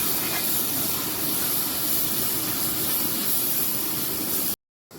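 Chopped onions sizzling in hot oil in a heated uruli, a steady dense frying hiss close up and continuous, cutting off briefly near the end.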